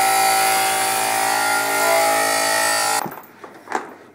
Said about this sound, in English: So I had to cut the chain.